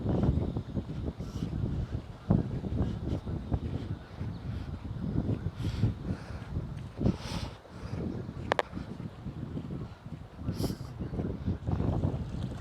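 Wind blowing at a seaside spot in Oslob on Cebu Island, Philippines, heard as steady, loud gusty rumble buffeting the microphone, with faint rustling and scattered bumps mixed in, with no talking.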